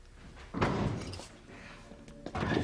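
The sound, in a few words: someone bumping into a thick basement door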